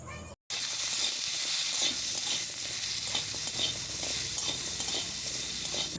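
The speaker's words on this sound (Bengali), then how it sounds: "এরপর দেব কেটে রাখা আমড়া আর পরিমাণ মতো লবণ আর হলুদ গুঁড়ো দিয়ে ভালোভাবে নাড়াচাড়া করে ভেজে নেব" Chopped hog plums fry with salt and turmeric powder in hot oil, giving a loud, constant sizzle with a spatula scraping and stirring throughout, after a brief moment of silence at the start.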